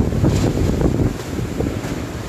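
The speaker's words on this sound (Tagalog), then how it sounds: "Malakas na ang hangin dito sa location ko." Super Typhoon Rolly (Goni) battering Naga City, strong wind roaring and buffeting the microphone in loud continuous gusts, with no voices.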